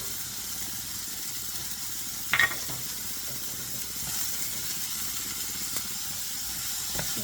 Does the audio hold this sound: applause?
no